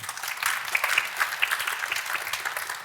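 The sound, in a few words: audience applause for two experts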